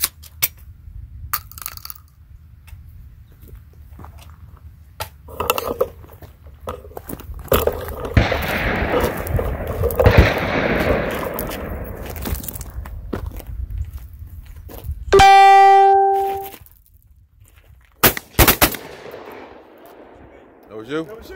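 Shotgun blasts from a Panzer AR12 at an outdoor clay shooting session: a few sharp, loud reports spread across the stretch, with voices talking and some other noises between shots.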